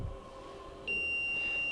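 A multimeter in continuity mode, probing a motherboard, gives one sustained high-pitched beep that starts partway in and holds steadily over faint room hum.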